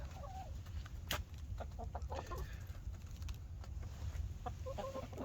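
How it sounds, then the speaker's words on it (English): Silkie chickens cluck softly in a backyard flock, with scattered short calls over a steady low rumble of background noise. "This is what having chickens is all about."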